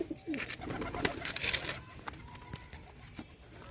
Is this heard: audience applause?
no